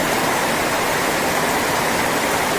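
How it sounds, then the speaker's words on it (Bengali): Hard nighttime rain hammers down continuously, a thick even rushing hiss close by with no voices over it. "খুব বৃষ্টি হচ্ছে খুব"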